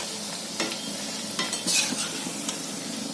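Wheat flour and jaggery kapanya frying in hot oil, a close steady sizzle with a few scraping stirs and light clicks from the utensil over about three seconds, no talking.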